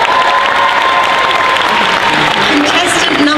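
A crowd at the Dragon Con Friday night costume contest applauds a contestant, a loud, dense burst of clapping with some cheering mixed in and a faint voice under the noise.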